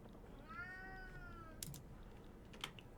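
One sad-sounding meow from a cat, soft and fairly distant, followed by a couple of sharp clicks like keyboard taps in a quiet room.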